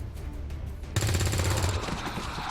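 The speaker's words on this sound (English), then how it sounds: "So, we're going to shoot at it right now." Rapid video-game gunfire in XCOM 2 aimed at an alien, a short burst of dense, rattling shots that breaks in suddenly after a quiet second and continues to the end.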